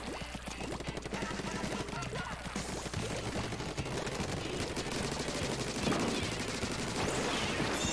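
Rapid cannon gunfire from a Nintendo Switch game rattles in dense, continuous bursts at close range, with a voice faintly underneath.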